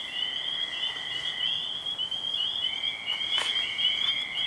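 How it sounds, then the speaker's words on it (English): Spring peeper frogs and toads calling outdoors in spring, a steady high trilling chorus with shrill overlapping calls at moderate distance, no voices over it. "You can still hear some peepers over here, but in the background, we have the second generation of spring"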